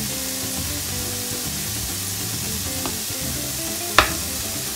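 Ground meat fries in a pan with a constant loud sizzle, with a few soft stirring scrapes and one sharper clack near the end. No voices.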